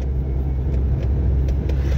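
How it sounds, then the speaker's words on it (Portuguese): Idling Ford Escort Hobby with a 1.6 alcohol-fuelled carbureted engine, a steady low rumble that stays close and even for the whole stretch with no revving and no talk over it. "O carrinho tá funcionando filé."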